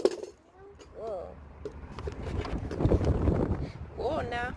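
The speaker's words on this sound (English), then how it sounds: "It's a little windy out here." Gusty wind buffets a microphone outdoors, a low rumbling roar swelling and easing throughout, with brief speech mixed in.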